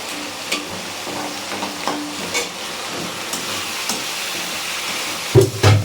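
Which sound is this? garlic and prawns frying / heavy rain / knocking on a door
garlic and prawns frying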